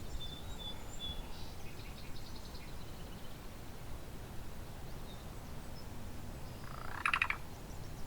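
A field sparrow sings faintly along a rail trail, its thin whistled notes drifting from a distance over steady outdoor ambience, followed late by a brief louder burst of another call.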